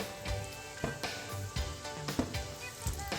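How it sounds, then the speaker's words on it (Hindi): Breaded potato snacks dropped one by one into hot cooking oil, giving a soft steady sizzle with small bursts of bubbling; low and close, with no talk over it. "अब इसमें एक एक स्नैक्स मैं इस तरीके से फ्राई होने के लिए डाल दूँगी।"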